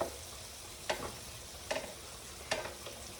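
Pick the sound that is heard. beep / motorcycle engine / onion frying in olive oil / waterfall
onion frying in olive oil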